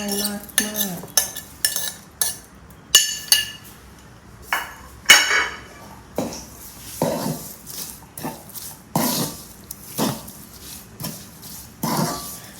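Pork larb being tossed with vegetables in a bowl, a series of sharp clinks and scrapes of a utensil against the dish at an irregular, roughly one-per-second pace, close and fairly loud, with no talk.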